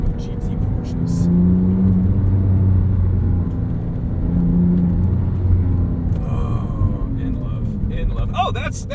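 A 997.1 Porsche 911 GT3 carries steady engine drone and tonal rises while being driven along a canyon road, loud and close from inside the car, with voices speaking over it toward the end.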